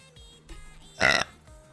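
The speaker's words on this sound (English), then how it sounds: "I do not want to see a playlist of me burping." A single loud, wet burp from a woman bursts out for about a quarter second, standing clearly above a quiet, murmuring room background.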